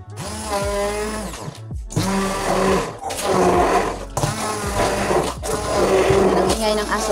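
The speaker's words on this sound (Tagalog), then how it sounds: "Ayan, na-on ko na yung blender." A kitchen blender whirring mango with milk in repeated bursts of several seconds each, a loud motor whine that surges and dips as the ingredients churn, stopping briefly between pulses, with a voice speaking over it.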